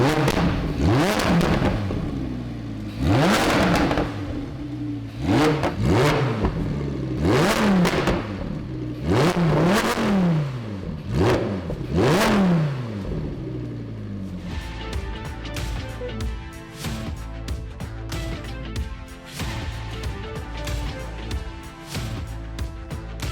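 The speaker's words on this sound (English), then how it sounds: "listen to the difference in exhaust tone between valves open and valves shut" A Corvette C8 Z06 with a Fabspeed Valvetronic exhaust revs repeatedly, loud rising and falling blips with valves open, then shifts to a quieter, steadier, buzzier drone as the valves shut.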